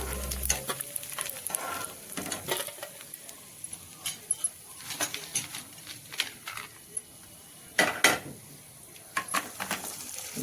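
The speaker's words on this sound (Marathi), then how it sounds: "आपण टोमॅटो वडे आता तळून घेणार आहोत।" Tomato vadas frying in hot oil over a low flame, a soft sizzle broken by irregular clinks and scrapes of a utensil against the pan.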